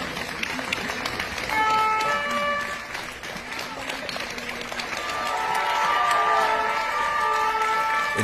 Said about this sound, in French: Ils déposent leur casque et applaudissent.